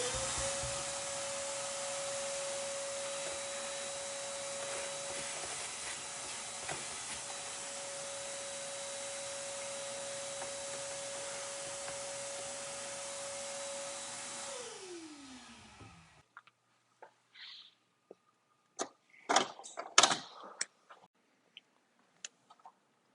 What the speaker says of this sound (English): But first, I need to vacuum this out.